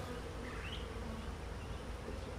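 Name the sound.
honeybees in a beehive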